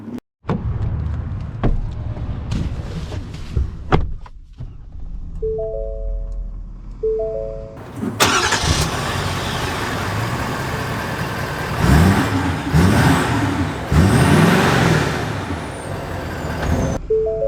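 A 2021 Ford F-350 Lariat FX4 pickup truck engine turns over and starts, then runs and pulls away with rising and falling engine revs; a few warning beeps sound early on.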